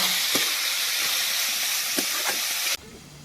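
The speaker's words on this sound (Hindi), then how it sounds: "इसको हम लोग तेल में भूंज लेते हैं ना।" Small snails fry in hot oil in a village kitchen, a loud continuous sizzle and hiss with a few sharp pops, then the sizzle suddenly drops away near the end.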